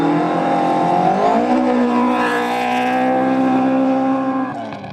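Historic-class Ford Escort rally car driving hard on a gravel stage, engine loud and close with a rising rev, then a steady high-revving drone before easing off at the end.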